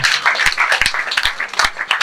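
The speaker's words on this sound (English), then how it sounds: "Please, let's clap for her." An audience applauds steadily, a continuous wash of many clapping hands filling the room at a moderate distance.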